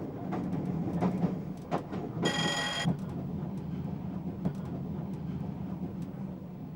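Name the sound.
train running into Tulse Hill station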